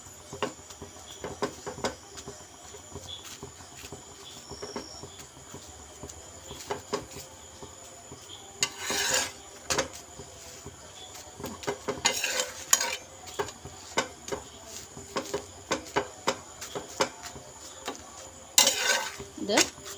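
A chapati made from ration-shop wheat flour is flipped and pressed on a hot pan, giving soft, repeated scraping and pressing bursts over a faint steady sizzle, with no talking.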